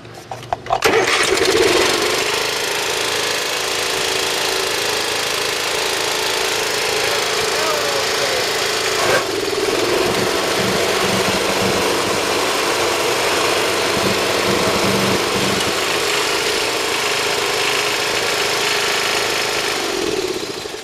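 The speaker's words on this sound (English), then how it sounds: "I'll show you right now the parking brake is set on. It's not, the deck isn't engaged." A Craftsman riding lawn mower engine runs steadily and loudly close by, with the parking brake set and the deck disengaged, a continuous rough drone that shifts slightly partway through.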